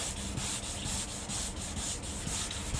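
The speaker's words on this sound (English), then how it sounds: "You can hear you're grinding a lot of paint off there" A harsh, steady abrasive grinding as paint is sanded off a car, carrying on continuously, with a faint rhythmic pulsing as the sander sweeps back and forth.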